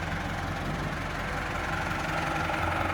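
A 2015 Ford Fiesta's WZ 1.6-litre four-cylinder turbo petrol engine, paired with a six-speed manual, idles steadily and loudly up close, a constant low throbbing hum with no voices.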